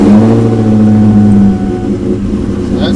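A car engine running just after starting on the clutch with no throttle, a loud steady low idle hum with a slight dip partway through, close and alone with no talk.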